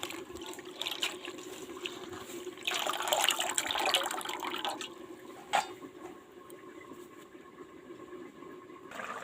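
Tamarind pulp is squeezed and mashed by hand in water, producing faint wet squelching, sloshing and dripping sounds close by in a home kitchen.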